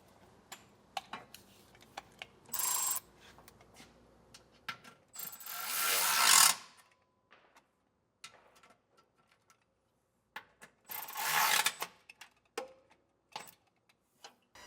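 Ratchet tightening carriage bolts on an air helper spring bracket, with several short bursts of rapid clicking separated by quieter handling noises and small taps.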